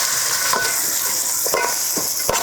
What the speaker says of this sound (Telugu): నూనె మరిగాక ఉల్లిపాయ ముక్కలు వేసుకోవాలి.